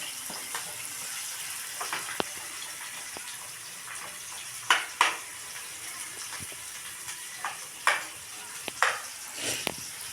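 Onions and green chillies cooking in a pan at home, with a soft continuous sizzle broken by scattered clinks and scrapes of stirring.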